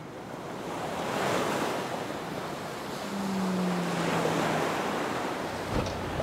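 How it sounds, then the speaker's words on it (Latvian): Ocean waves at Porto Moniz on Madeira swell and break in a continuous surging roar with gusty wind noise. No voices are heard. "uzreiz var saprast, tā nav jūra, tas ir okeāns"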